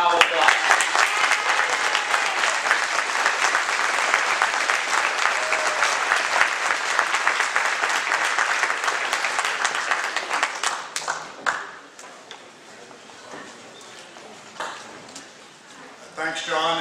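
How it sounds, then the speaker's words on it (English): A rally crowd applauds Al Fishman with steady, dense clapping for about eleven seconds. The clapping then fades away, leaving quieter room sound and a few scattered claps. "let's give Al a warm round of applause"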